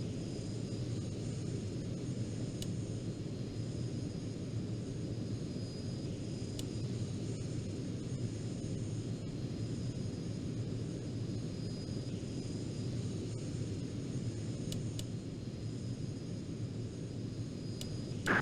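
Steady, unbroken roar of an EF2000 Typhoon jet engine during landing in the Falcon 4 Allied Force flight simulator, holding at an even, close level for the whole span with no voices.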